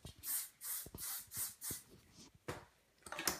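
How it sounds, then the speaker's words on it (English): Several short hissing spray bursts in a steady rhythm, close by, then a pause and a couple more sprays. "I'm going to spray a light amount of hairspray"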